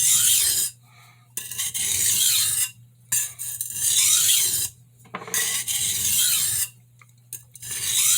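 A santoku knife is sharpened on a crystalline India stone, giving steady rasping strokes in rhythmic bursts of about a second each with short pauses between, close and clear.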